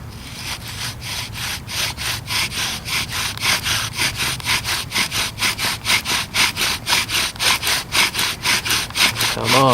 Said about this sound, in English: with all this sawing away